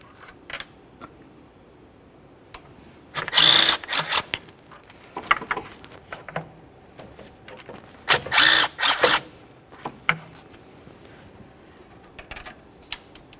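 On a 2.3L four-cylinder Ford Ranger engine, a bolt is turned out by hand, giving scattered close ratcheting clicks and two louder bursts of rough grinding rattle, with no talk.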